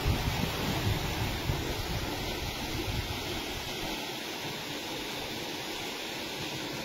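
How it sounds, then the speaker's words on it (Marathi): A 5 HP Ecozen solar pump draws water from an 80-foot well and discharges it in a heavy, continuous rushing gush, with wind buffeting the microphone outdoors. "पाहू शकता आपण सौर पंप चालू केलाय."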